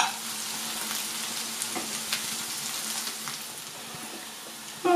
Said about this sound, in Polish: Na małym ogniu podsmażamy.